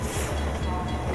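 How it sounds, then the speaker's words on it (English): A loud train in the video game Half-Life 2 rumbles past close by, a dense continuous roar of wheels and carriages filling the whole moment. "There's a train coming."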